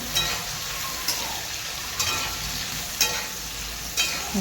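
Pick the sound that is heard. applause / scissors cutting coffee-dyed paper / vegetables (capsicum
vegetables (capsicum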